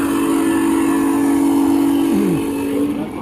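A small train at an outdoor holiday light display sounds a long, steady whistle tone that bends downward near the end, over continuous rumbling background noise.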